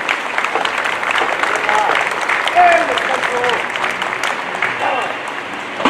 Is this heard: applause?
yes